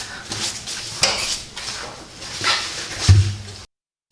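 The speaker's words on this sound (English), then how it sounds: "I've already got them pretty much off, so I'm just going to wrench them right off here." Wrench removing loosened lug nuts from the rear wheel of a 2005-14 S197 Ford Mustang: a few sharp metallic clinks and clanks spaced about a second apart, close by, with faint shop ambience between them.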